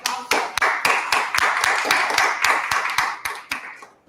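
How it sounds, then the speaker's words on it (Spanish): An audience in a library applauds with a steady, rhythmic clap, many hands striking together in a regular beat that fades out at the end. "pido un gran aplauso por este tremendo esfuerzo que están haciendo"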